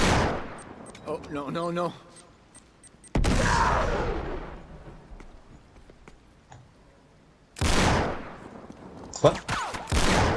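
Gunfire aimed at the player in Uncharted 3: several loud bursts of shots and impacts arrive in sudden clusters, separated by quieter stretches, while a player exclaims in French over them.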